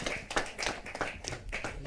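Scattered clapping from an audience at a Hindi poetry gathering (kavi sammelan), brief and moderately quiet, with uneven claps rather than a full roar.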